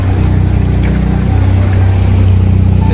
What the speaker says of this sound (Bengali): এখানে এই ট্রলারগুলো দিয়েই মানুষ যাতায়াত করে